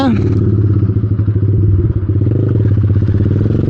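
A Yamaha R15 V2 motorcycle with a Yoshimura aftermarket exhaust runs loud and close with a deep, throbbing exhaust note, revving briefly before settling into a steady rumble.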